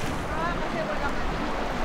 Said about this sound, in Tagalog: Medyo malakas yung agos, ha?